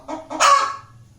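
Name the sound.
white hen clucking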